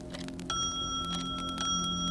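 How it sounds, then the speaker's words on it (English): Two soft chimes ring in a quiet room in an audio play of A Christmas Carol, bright sustained tones entering gently over a faint background hum. "the sudden sound of two soft chimes breaks the silence"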